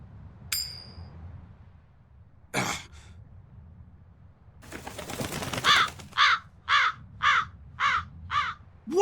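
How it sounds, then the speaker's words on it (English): A crow in the video game Tales of Berseria, with a single sharp call, a rough throaty squawk and then a burst of fluttering, followed by a run of six evenly spaced, loud, close caws. "That crow just flew off with the coin!"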